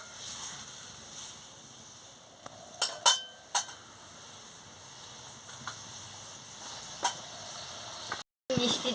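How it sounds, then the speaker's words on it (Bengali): Metal spoon scrapes and clinks inside a pot of simmering silver carp fish curry, a few sharp taps standing out over a soft steady bubble, close by. "দিয়ে ভালো করে নাড়িয়ে নিচ্ছি।"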